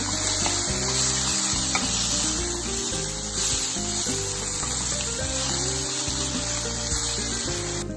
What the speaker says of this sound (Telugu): ఒక స్పూను అల్లం వెల్లుల్లి మసాలా వేసుకోవాలి. పచ్చివాసన పోయే వరకు వేయించేసుకోవాలి.